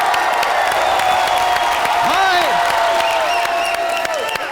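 A studio audience at the Comedy Nights Bachao comedy show bursts into loud, continuous applause with cheers and whoops, welcoming comedians Krushna, Sudesh and Ada onto the stage.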